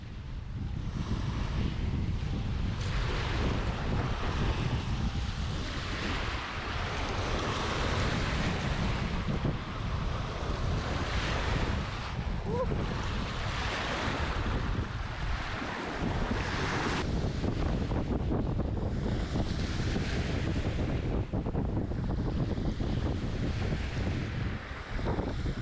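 Waves wash steadily over a rocky Lake Erie beach while strong wind buffets the microphone, a continuous loud rush of surf and gusts with no voices.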